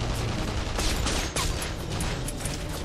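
Gunfire crackles in The Saboteur game, a dense continuous fusillade of shots with sharp broadband bursts over a steady loud background, no pauses across the whole stretch.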